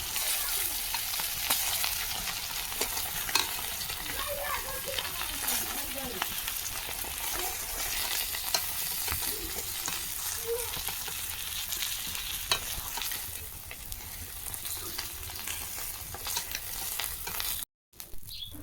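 Cumin seeds sizzle and crackle in hot fish oil in a pan on a rural Indian village stove, a steady loud frying hiss running throughout with light stirring clatter and a faint voice now and then.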